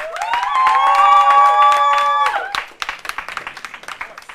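An audience at a university law quiz competition claps in a scattered patter of hands that follows a sustained musical tone and fades toward the end.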